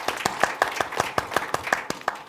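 An audience claps at a conference on HIV prevention, a brisk two-second burst of crisp, closely spaced hand claps, fairly near and loud, with no talk over it.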